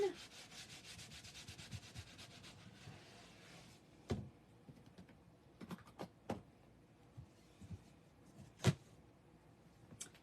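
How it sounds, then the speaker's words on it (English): A chalk couture welcome sign being buffed with wax, giving a steady soft rubbing and sanding texture that fades after a few seconds into scattered sharp knocks and brief scrapes, with no talking. "So you want to kind of buff that wax in."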